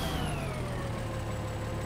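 A tractor engine in Farming Simulator 2013 drones at a steady idle, a continuous mid-pitched mechanical hum with slowly shifting whine, heard alone without talk.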